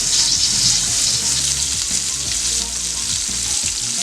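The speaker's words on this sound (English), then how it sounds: "we've got things sizzling here. Very sizzling" Cheeseburger patties sizzle loudly as they fry in a pan, a dense steady hiss with occasional stirring or scraping sounds underneath and no talking.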